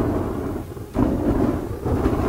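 Burning attacks from a Diablo 4 sorcerer strike an enemy with deep, rumbling booming thuds. Two heavy impacts land about a second apart over a dense, continuous low roar of game audio.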